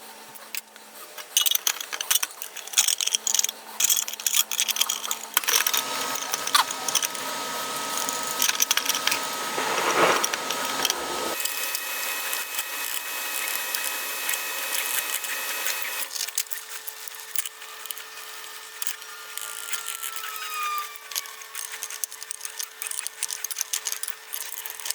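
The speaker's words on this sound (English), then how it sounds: "I'm just going to wire wheel these and polish them on the fiber wheel." A bench wire wheel and then a fiber polishing wheel work on internal parts of an old family scale, giving a continuous whirring grind that shifts in tone as the part is pressed and changed, close and fairly loud.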